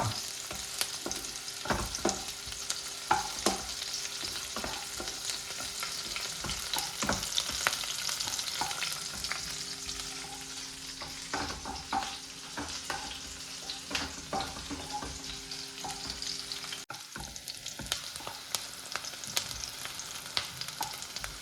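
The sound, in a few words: onions frying in a pan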